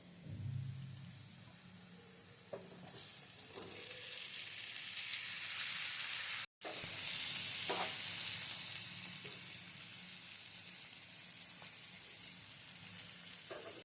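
Chicken pieces with turmeric fry in a pan for pulao, giving a steady, close sizzle that swells and holds, broken by a few soft clinks of a stirring spoon.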